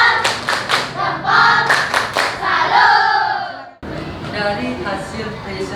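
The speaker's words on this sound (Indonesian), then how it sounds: "Oke, tepuk salut." Elementary school pupils in a classroom perform a rhythmic salute clap, several sharp group claps with chanted voices, followed by a brief cut into louder mixed children's shouting and clapping.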